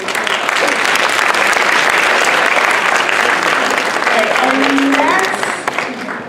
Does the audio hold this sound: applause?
yes